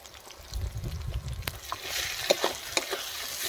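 Ground spices, coriander powder and dry chilli powder, stir-fried slowly in a pan for a goat trotter curry: a low rumble gives way to a steady frying sizzle punctuated by sharp spatula clicks and scrapes.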